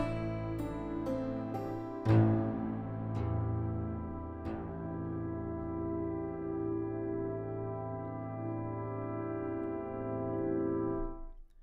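The 8Dio 1969 Legacy Grand Piano, run through unusual effects, plays a few quick high notes and then a deep chord that swells into a long, shimmering, drone-like sustain, loud and alone before fading out.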